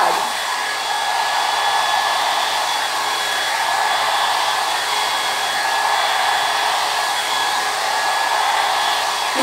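A rotating hot air brush dryer runs continuously with a close, steady fan whoosh and a constant high motor whine, no talking.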